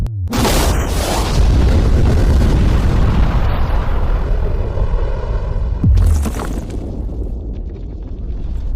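A huge explosion blows up a safe: a deafening close boom bursts at once and rumbles on, then a second sharp blast cracks out before the roar fades into a long decaying rumble.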